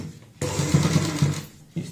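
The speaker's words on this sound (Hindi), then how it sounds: "अब दोस्तों हम ऊपर से यहाँ पे सिलाई लगा लेते हैं" A sewing machine runs in one steady burst of about a second and a half, stitching along the top edge of a gathered frill on a stool cover, close and fairly loud, with no one speaking.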